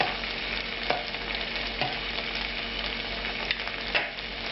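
Angel hair pasta tossed in a pan of melted butter, a steady close sizzle and fry with a few soft scrapes and clatters as it is stirred around.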